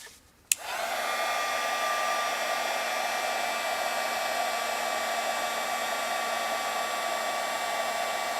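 An embossing heat tool blowing hot air, a steady fan-like whoosh with a faint whine that starts abruptly after a click and runs on evenly, close and unbroken, with no voices.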